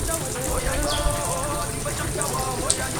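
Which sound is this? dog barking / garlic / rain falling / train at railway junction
rain falling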